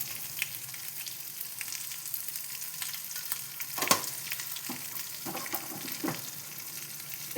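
Spiced pea filling fries in a pan with a steady, soft sizzle, broken by occasional scrapes and stirring knocks, close and fairly quiet throughout.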